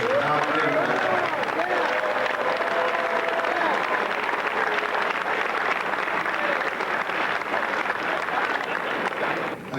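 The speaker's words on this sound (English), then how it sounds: "let's give them a round of applause because of how big they are" Applause from the crowd at a high school wrestling event, dense steady clapping lasting the whole stretch at an even level, with some faint voices mixed into the crowd noise.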